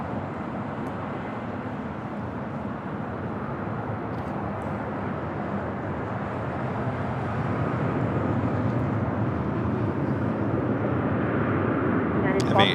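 A Boeing 737 MAX 8 jet arriving at LAX from Mexico City, a steady broadband engine roar that swells slightly louder over the final seconds as it draws nearer.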